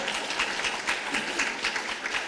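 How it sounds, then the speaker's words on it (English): Audience applause at an awards ceremony, a steady wash of many hands clapping at moderate volume throughout, with no voices on top. "Everyone applaud him."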